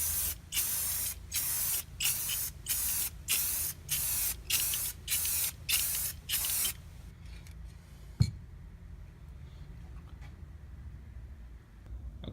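Clear coat paint sprayed onto a Polaris XCR 440 snowmobile, a rhythmic series of about a dozen short hissing bursts from a spray gun, then quiet with a single sharp click.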